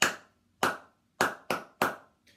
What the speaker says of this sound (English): If I clapped, you would clap back.